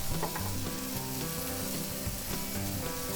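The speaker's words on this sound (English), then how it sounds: "We want to make sure we keep an eye on these because this griddle is hot here to sear." Burgers and vegetables searing on a hot griddle, a loud, even sizzle that holds steady throughout, close and unbroken, with no voices.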